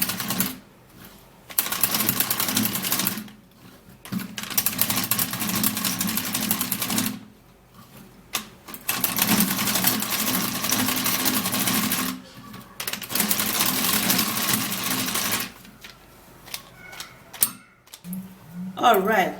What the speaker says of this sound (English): I'm going to be using my manual mixer.